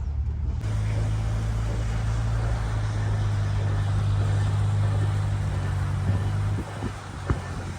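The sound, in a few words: car being towed with tow strap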